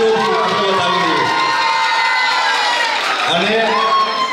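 A crowd at a women's gathering and festival claps and cheers loudly and continuously, with shouts and whoops rising over the sustained applause.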